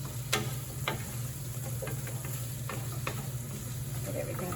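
Vegetables are tossed in a pan with ghee and thyme, giving a steady hiss of frying with intermittent light clicks and scrapes from stirring, close and continuous under a constant background hum.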